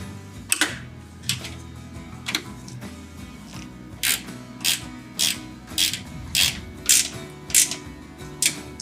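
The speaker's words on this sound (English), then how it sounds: "using that 8mm, again, we can go ahead and tighten them down" A ratchet with an 8mm socket tightens tail light nuts on a 2015 Ford F-150, starting with a few scattered clicks and then settling into a steady series of crisp, close ratcheting bursts.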